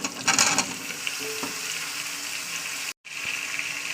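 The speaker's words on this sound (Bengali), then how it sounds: "তো চলুন ভালো করে ভাজা করে নিই তেলের সঙ্গে মশলা তেল একসঙ্গে ভালো ভাজা করে নেবো" Potatoes fry with spices in hot oil, giving a steady close sizzle with a few stirring clatters early on and a brief cut near the end.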